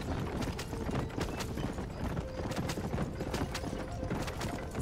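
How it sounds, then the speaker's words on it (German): Rapid, steady clip-clop of a carriage horse's hooves trotting in Red Dead Redemption, close and moderately loud, with a faint rolling rumble of the carriage beneath. "Das Pferd und die Kutsche."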